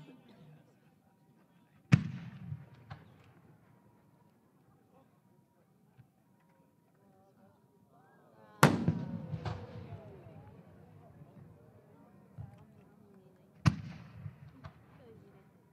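Fireworks shells by Isogai Enka-ten of Aichi at the 2024 Omagari fireworks competition go off in three sharp, loud booms spaced several seconds apart, each trailing into a rolling, echoing decay.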